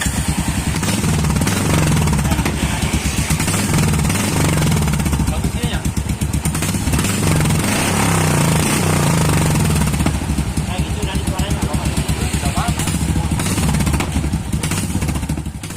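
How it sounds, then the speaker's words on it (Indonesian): Royal Enfield Meteor 350 motorcycle fitted with a custom racing exhaust, its baffle removed and replaced by a pipe, runs loud and steady with a dense, rough, fast-pulsing rumble throughout, close to the microphone. "suara knalpot yang barusan kalian dengar itu belum fix, hanya ketika saat melakukan uji coba saja, jadi suaranya masih bocor"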